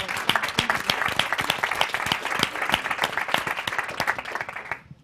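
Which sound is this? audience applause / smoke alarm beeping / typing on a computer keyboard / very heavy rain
audience applause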